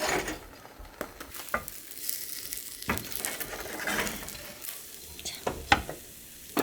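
A thick egg sheet for jidan fries in a pan, giving a soft, fairly quiet sizzle broken by repeated clicks and scrapes of a utensil working the egg; nobody speaks.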